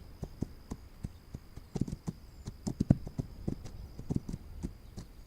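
Horse hooves clip-clop in the survival video game This Land Is My Land, a quick, even run of soft, faint hoofbeats heard alone.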